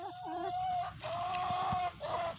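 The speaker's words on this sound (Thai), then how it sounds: "กุ๊กไก่กุ๊กไก่กุ๊กไก่มากินผักแล้ว" Chickens eating vegetables cluck softly and steadily close by, with a few higher calls and faint pecking sounds, a short calm burst of barnyard chatter.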